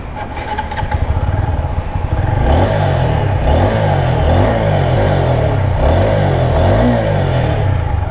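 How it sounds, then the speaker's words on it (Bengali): A TVS Apache RTR 160 4V motorcycle engine idles, then revs repeatedly in rising and falling bursts, loud and close, with a steady throaty exhaust note. "এক্সজস্টের সাউন্ডটা আমার কাছে কিউট লাগছে"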